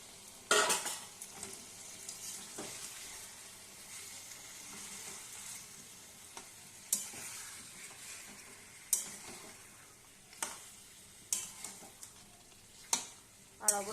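Chicken curry masala being sautéed and stirred in a pan, a soft continuous sizzle punctuated by repeated spoon scrapes and clinks against the pan every second or two.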